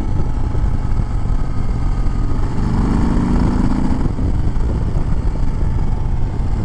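A 2021 Harley-Davidson Sport Glide engine throttling up on the road, a loud, steady rumbling drone with a brief rising rev in the middle, heard close without speech.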